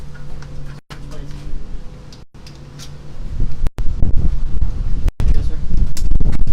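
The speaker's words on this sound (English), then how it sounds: "It's windy out here today." Wind blowing outdoors during a window installation, gusty rumbling buffeting that grows stronger and louder toward the end, with people talking nearby.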